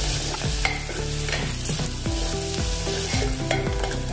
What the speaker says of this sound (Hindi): और इसमें अभी हम प्याज डालेंगे बारीक कटा हुआ।